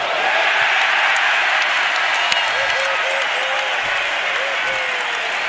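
Basketball arena crowd applauding and cheering in a steady, loud, dense roar that fills the whole stretch, with some whistles and shouts riding on top.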